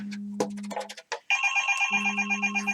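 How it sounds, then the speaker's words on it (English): A phone ringtone sounds for an incoming call during a live game stream, a chiming melody that switches into steady repeating rings, loud and close with no talk over it. "I'm getting a phone call on the stream"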